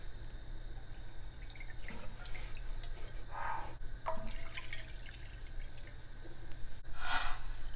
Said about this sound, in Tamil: 2 கப்பு மில்க் ஊற்றிக்கலாம்.